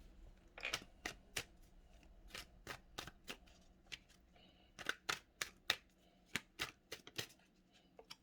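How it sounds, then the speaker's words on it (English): Tarot card decks shuffled by hand, a series of crisp, distinct snapping riffles and taps at irregular intervals, close and clear against quiet background. "So I'm going to shuffle up the decks"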